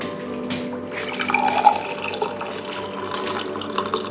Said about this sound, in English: Pour in the tea.